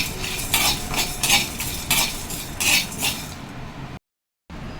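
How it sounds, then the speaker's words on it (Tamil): A pan scraped and stirred while dry roasting until golden, bursts of metallic scraping and rattling in an irregular rhythm, close by, ending in a brief silence. "நல்லா கோல்டன் கலராக சேஞ்ச் ஆகிற வரைக்கும் வறுக்கணும்."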